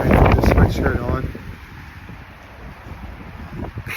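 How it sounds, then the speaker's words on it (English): Cold wind rushes and buffets against the microphone on a Tokyo street in Takadanobaba, loud at first and then settling into a steady outdoor gust. "because it's windy and it's cold now"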